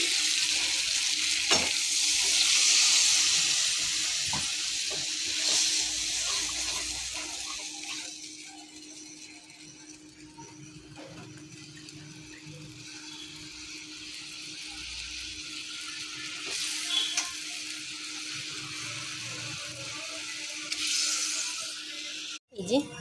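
Yogurt goes into a pan of frying fish for a Bengali doi mach, producing a loud steady sizzle and hiss that gradually settles, with occasional clinks and scrapes of stirring and bursts of renewed sizzling.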